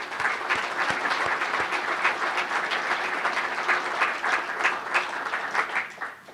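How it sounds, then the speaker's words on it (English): Steady applause from the audience at a Penn State Innovation Hub ribbon-cutting ceremony, dense and continuous for about six seconds with a few sharper claps standing out near the start. "Let's give them a round of applause."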